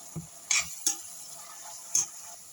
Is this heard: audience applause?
no